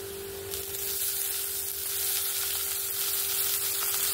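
Deboned fish goes into a pan of fried onion, garlic, ginger and green chilli, raising a loud, bright sizzle that swells and holds steady over a faint constant hum.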